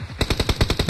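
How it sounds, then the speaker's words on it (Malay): Video game gunfire rattles out in one quick automatic burst of about eight shots, loud and close, each crack sharply separated in under a second. "Pok Yen, siapa yang tembak kita ni?"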